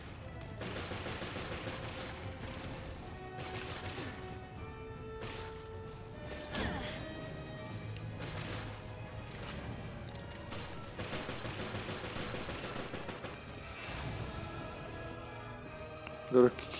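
Sniper rifle gunshots in Resident Evil: Revelations, a scattering of sharp cracks and impacts over busy game music and effects, moderately loud and irregularly spaced, with someone talking over parts of the action.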